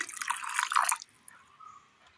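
A little water is splashed into a mixer jar holding cumin, mustard and grated coconut, a brief close pour lasting about a second before it goes quiet.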